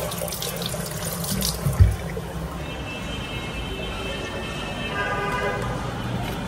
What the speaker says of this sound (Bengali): হাতটা ধুই একটু